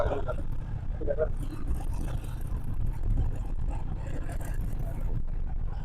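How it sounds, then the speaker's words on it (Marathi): A car engine runs steadily, a continuous low rumble that fills the whole stretch beneath a person talking nearby. "गाडी चालू"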